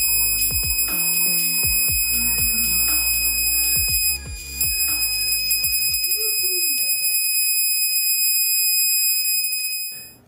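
A plasma speaker built from Honda ignition coils gives off a loud, steady high-pitched 9 kHz tone with crackling buzz, alongside harmonic overtones and rhythmic pulsing. The tone runs continuously throughout.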